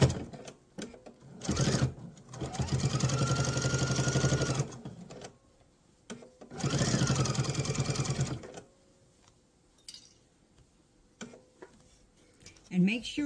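A sewing machine stitches a mesh tote in two sustained bursts of steady, close mechanical whirring, separated by quiet pauses with a person speaking and small handling clicks.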